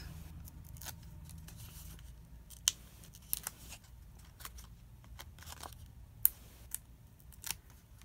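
Adhesive backing peeled off card-making pieces, a quiet crackly tearing with a few sharp rips and clicks over soft low rumble, close and faint, no talk.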